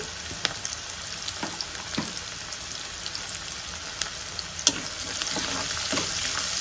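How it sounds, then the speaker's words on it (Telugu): Steady hiss of hot oil sizzling with scattered sharp crackles and pops as spices and turmeric are tempered, close and continuous, with some stirring noises. "పోపు వేసేటప్పుడు జాగ్రత్తగా వేయండి"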